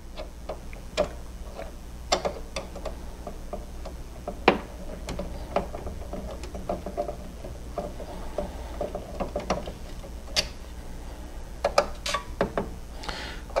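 Small screws being backed out of the plastic fan shroud inside a Samsung TV, a steady run of faint ticking and clicking from the screwdriver over a quiet low hum, with a few sharper clicks spread across the stretch.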